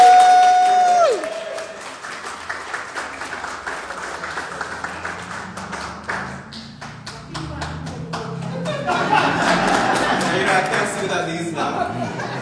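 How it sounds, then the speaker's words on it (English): Audience clapping at a gallery opening reception, a spread of scattered hand claps and taps with chatter running underneath, thinning in the middle and building again toward the end. "Give him a round of applause."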